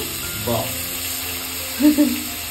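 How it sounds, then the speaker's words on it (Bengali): Yogurt-marinated chicken pieces roasting in a pan for biryani give a continuous close sizzle, with a brief stir and a short murmur of voice near the end. "চিকেনগুলো আগে যে মশলাটা করেছি ওটা তো বেটে নিয়েছি, আর হচ্ছে এবার চিকেনগুলো একটুখানি রোস্ট করে নেব"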